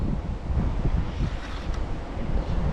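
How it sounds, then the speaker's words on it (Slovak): Wind blows hard outdoors during feeder fishing on the water, a continuous low rumbling gust battering the microphone with steady roaring buffets, no voices heard. "Viem, že fúka vietor"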